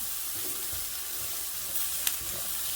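Onions sizzling in a pan, a steady soft frying hiss throughout, with a small clink partway through and no talk.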